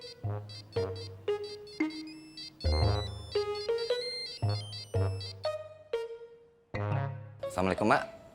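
A ringtone melody plays during an outgoing phone call, a series of clear electronic tones in a repeating tune, loud and close and ending in a busier flourish.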